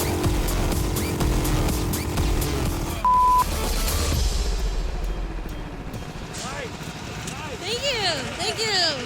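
Go-kart engine at full throttle on a track, loud and continuous with a high whining drone, shifting pitch as the kart swoops through turns, while people shout and cheer over it.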